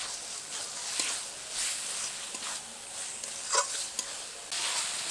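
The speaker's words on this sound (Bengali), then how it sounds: "মশলার সাথে একটু একটু করে কষানো হচ্ছে, আর দেখুন চর্বিগুলোও কিন্তু একটু একটু করে গলতে শুরু করেছে" Jackfruit curry with pieces of fat frying in a little oil and spices, stirred now and then; a soft steady sizzle runs throughout with occasional spoon scrapes and clinks, fairly quiet and without talk.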